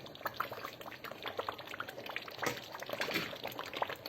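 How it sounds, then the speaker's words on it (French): Water pours steadily into a cooking pot holding fish, a close, continuous splashing and gurgling with no talk. "On va rajouter le poisson et mettre de l'eau à l'intérieur."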